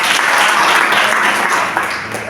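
A church congregation at a Saturday service bursts into loud, close applause, a thick burst of clapping that tapers slightly toward the end.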